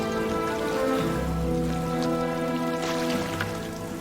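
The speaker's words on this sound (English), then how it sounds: "Apart from the rain." Rain falls steadily on a rocky island, a continuous patter heard close and fairly loud throughout, with a sustained tonal hum running underneath.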